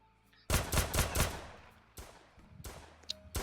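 Gunfire in the video game Deadly Heist: a rapid automatic burst of loud shots, then further shorter volleys after a pause, near and forceful.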